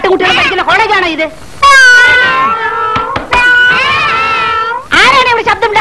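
A person mimics cat meows in a college classroom: several loud, drawn-out wailing meows in quick succession, each rising and falling, close and filling most of the moment.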